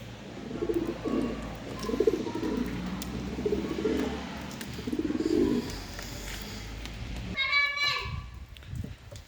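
Wild feather-footed pigeons coo in low, soft, repeated murmurs close by, mixed with a voice and background chatter, followed by a brief flutter and rustle near the end.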